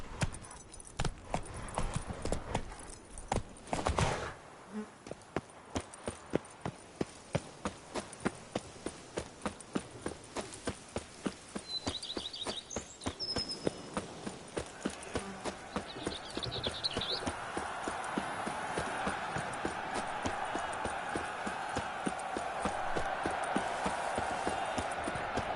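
Hooves clip-clop in a steady, rapid rhythm as a horse gallops in The Witcher 3: Blood and Wine on PS5, continuous for the whole stretch and growing denser toward the end, with no talking.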